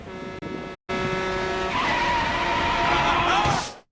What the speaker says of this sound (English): he does slam on his brakes. You can clearly hear them here.